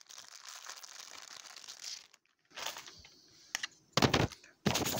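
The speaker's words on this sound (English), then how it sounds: "let's put together the standy real quick" Cardboard comic book standee being assembled, with crinkling and scraping of card pieces followed by several sharp, close slotting and snapping bursts near the end.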